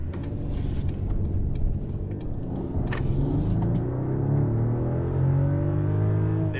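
A 2021 Mercedes-Benz E 450 accelerates up to 50, its engine rising steadily in pitch as it pulls through a gear change, heard from inside the cabin as a smooth, continuous low drone with no talk.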